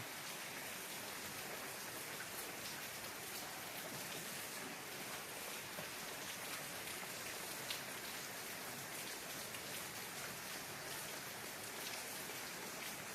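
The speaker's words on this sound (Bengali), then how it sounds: "সুন্দর বৃষ্টি পড়ছে, রিমঝিম রিমঝিম বৃষ্টি পড়ছে।" Steady rain pours on green trees on a misty, overcast morning, a dense even patter with no pauses, continuous and close throughout with no voices.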